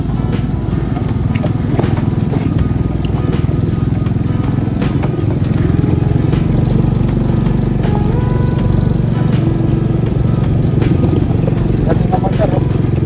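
A motorcycle engine drones steadily and loudly throughout a ride on a rural road in Malalag, with voices talking over the constant low rumble.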